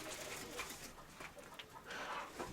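Domestic pigeons, including a cock paired with a black hen, coo softly in a loft, with low, rolling calls repeating close by over a steady hiss of background noise.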